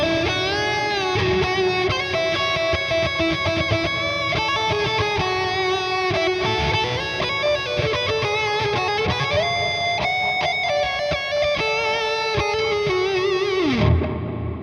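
Electric guitar played through a Mooer GE250 multi-effects unit with delay and reverb, a loud, continuous distorted lead line with sustained bends and chorus-like shimmer, ringing out and fading at the end.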